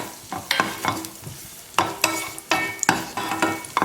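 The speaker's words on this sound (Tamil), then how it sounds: "கிஸ்மிஸ் நல்லா அப்படி பொரிஞ்சு வரணும்" Raisins and cashews frying in ghee in a pan for wheat rava kesari, a soft sizzle broken by repeated sharp scraping strokes of a spoon stirring, close and fairly quiet.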